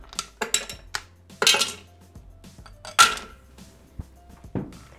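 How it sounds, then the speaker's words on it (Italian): Rossana hard candies dropped into a Thermomix bowl, giving a series of sharp clinks and rattles, close and clear, with brief pauses between pours. "Iniziamo la ricetta mettendo all'interno del boccale le caramelle Rossana."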